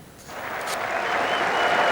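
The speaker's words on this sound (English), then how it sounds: "5-wicket Fraser soaked up the applause at Headingley" A cricket crowd at Headingley applauds a bowler after a five-wicket haul in an England v South Africa Test, a broad, distant wash of clapping that swells steadily and stays continuous.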